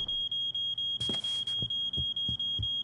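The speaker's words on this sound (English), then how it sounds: "And the alarm's gonna go off." An alarm in the video game Life Is Strange: Before the Storm beeps in a steady rapid repeating pattern, a piercing electronic tone with a few dull thuds and a brief burst of noise mixed in.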